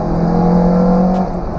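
A car engine held at a steady drone with throttle applied and the clutch pressed while downshifting, the hum fairly loud and constant before easing slightly near the end.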